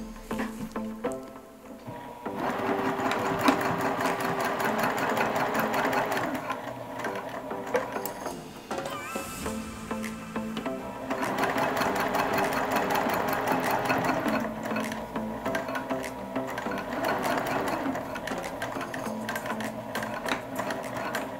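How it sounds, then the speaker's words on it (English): A sewing machine topstitches the band seams of a drop-cloth bucket hat, running in a steady close whir that stops briefly midway and then resumes. "I'm splaying open the seams and top stitching down on either side, making sure not to catch the other side of the band."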